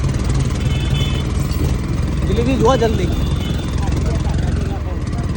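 At a boating station, a large steamer boat's engine gives a loud, continuous low droning throb while people talk close by over it.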